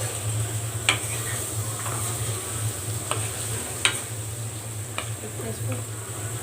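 Ginger and garlic fry in a pan with a steady soft sizzle, broken by a few sharp clicks of a utensil against the pan over a low constant hum.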